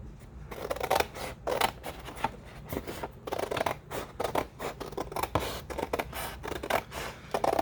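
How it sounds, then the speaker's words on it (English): Scissors trimming the edges off paper at a desk, a rapid series of crisp snips and rustles repeating steadily and close up, with no talk. "And now I'm going to cut these edges off."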